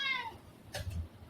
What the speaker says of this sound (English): sorry about my cat; he's a little talkative one